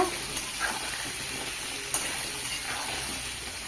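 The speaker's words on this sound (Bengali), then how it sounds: "আলু লাল লাল করে ভেজে নেব।" Steady hiss of potatoes frying in oil with a soft crackle throughout, a faint scrape or two, no voices.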